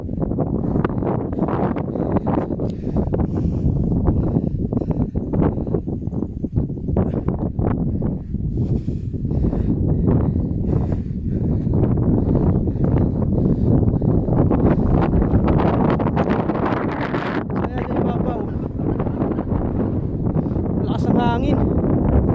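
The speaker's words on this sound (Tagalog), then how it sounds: "Hangin." Strong wind on the Mount Banoy summit in Batangas roars and buffets the microphone in uneven gusts, loud and rough throughout, with a voice briefly heard beneath the rush.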